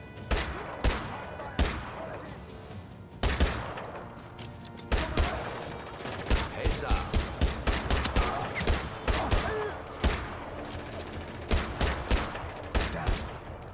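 Repeated loud gunshots crack in Just Cause 3, sometimes single, sometimes in quick clustered volleys, with short pauses between bursts.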